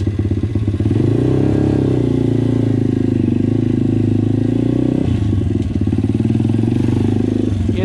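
An MRF 140RC motorcycle with a freshly repaired engine runs loud and close, rising in revs as it pulls away in first gear with a steady, throbbing drone that briefly dips and recovers.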